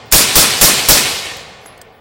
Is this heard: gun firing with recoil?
yes